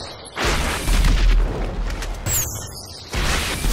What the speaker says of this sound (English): Hey, big fireworks.